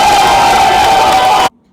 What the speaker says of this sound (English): The crowd should be going mad for that.